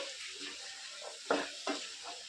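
Black-eyed peas (bobbarlu) are stir-fried in a pan for a chaat, giving a soft, steady sizzle broken by a couple of sharper scrapes from the stirring spoon. No one speaks.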